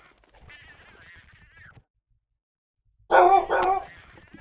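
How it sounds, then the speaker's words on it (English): Two sharp, loud dog barks close by in quick succession, following a stretch of quieter, high-pitched whining sounds and a short silence. "Dog getting feisty."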